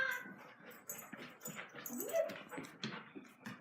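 A dog whimpers and yips in a busy household, with soft high whines rising and falling over a few seconds amid background voices and movement.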